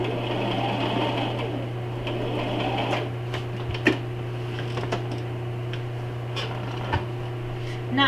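A sewing machine runs a beginner's seam to the end and then back stitches, giving a loud steady motor drone with sharp ticks and small clicks as it stops and reverses.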